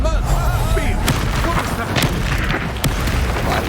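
Booming fire blasts and impacts from an Incendio spell in Hogwarts Legacy roar loudly and continuously, with a few sharp hits punching through, while a voice shouts over the game sounds.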